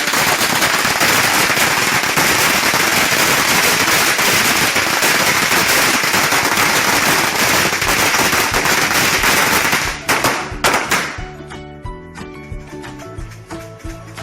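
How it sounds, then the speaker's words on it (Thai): Strings of firecrackers go off at a Thai temple in a dense, continuous crackling barrage, loud and close, before thinning to scattered pops and fading. "วันนี้แม่ก็ได้มา จุดประทัดให้แล้วนะ"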